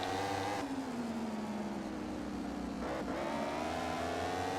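Motorcycle engine in the racing game MotoGP 15, freewheeling with a steady droning whine whose pitch falls gently and then climbs again, heard alone and fairly quiet.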